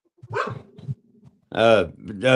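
A dog barks close by in two short bursts at first, then louder, fuller barks follow after a pause, with a voice mixed in.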